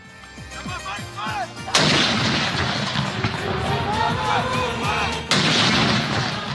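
Two heavy cannon blasts of a 31-gun salute in Islamabad boom several seconds apart, each followed by a long rolling echo, with a voice talking faintly underneath.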